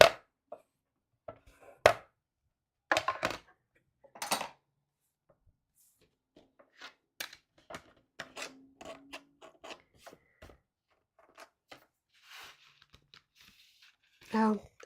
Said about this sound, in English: we're going to go ahead and die cut this the same way we did the other one